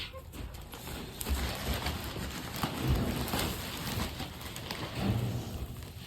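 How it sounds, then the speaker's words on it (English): Steady rain patters and splashes on surfaces nearby, with a few scattered sharper drops and faint bird calls in the background. "Whoa, it's raining."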